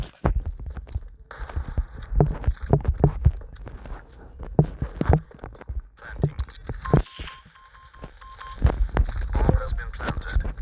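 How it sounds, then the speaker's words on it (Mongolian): Ducks quacking in a ragged series of loud, nasal calls, bursts coming in irregular clusters over several seconds alongside a few brief tonal beeps. "Нугасаа."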